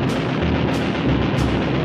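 Rapid heavy cannon fire from a Skyraider attack aircraft's four M3 20-millimeter cannons, a loud continuous roaring burst with a few sharper pulses rising out of it.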